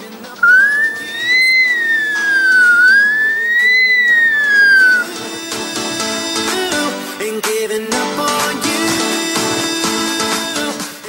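A 12-year-old boy imitates an ambulance siren with a loud, rising and falling whistled wail lasting a few seconds, followed by busy music.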